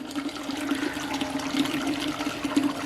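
The pump on a BrewZilla Gen4 brewing unit drains water out through the bottom tap, giving a constant gushing, flushing rush over a steady low motor hum, close and unbroken throughout.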